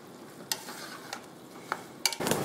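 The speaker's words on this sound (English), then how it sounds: "you'll stir that and let cook for about a minute" Minced garlic cooking in a pot for venison chili, with a quiet sizzle under several sharp scrapes and taps of a spoon stirring, close by and irregular, louder stirring near the end, no voices.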